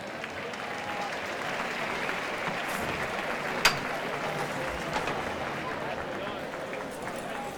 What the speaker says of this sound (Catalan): Aplaudiments a plaça